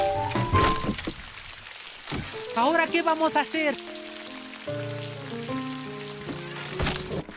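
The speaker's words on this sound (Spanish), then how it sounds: "¡Ah, no! ¡Llueve!" A cartoon rain effect patters under bright musical tones in a Spanish-dubbed Curious George episode, and a character speaks briefly over it.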